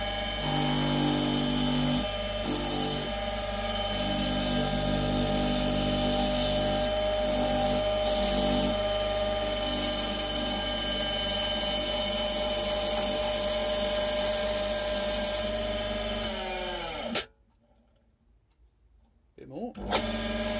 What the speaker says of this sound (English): if I bring this over here, I've got to sand the rest off.